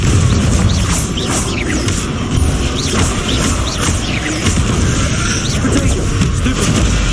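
Repeated fiery Confringo blasts and crackling spell impacts in the Hogwarts Legacy wizarding game, a dense, steady barrage of booms, clatters and bursts with no quiet gaps between them.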